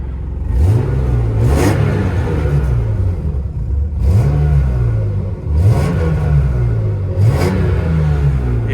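BMW E39 engine revving repeatedly nearby, with four or five rising blips of the throttle that each fall back to a rough idle, loud and close.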